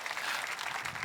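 Audience applause at a French-language religious talk, a dense, steady wash of clapping that holds at an even level through a short moment, with no voices over it.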